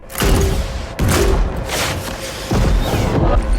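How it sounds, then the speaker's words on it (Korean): An army's cannons fire at a giant troll in the film Troll, heavy booming blasts in quick succession, with fresh impacts at about one, two and a half seconds, each followed by a long rolling rumble. "사격 허가가 떨어지고 가지고 있던 대포를 모두 트롤에게 쏟아붓는 군대"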